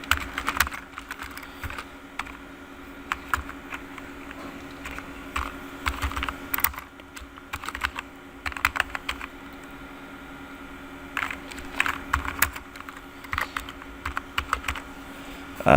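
Steady computer keyboard typing while writing in Microsoft Word, bursts of fast clicking keys with short pauses, close and clear over a faint constant hum.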